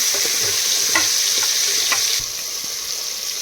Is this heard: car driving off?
no